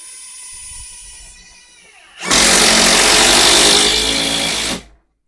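A Procraft Industrial ID20A impact driver, rated 180 Nm and 3500 rpm, whirs quietly and then bursts into a loud, close, sustained hammering rattle at top speed for about two and a half seconds before cutting off.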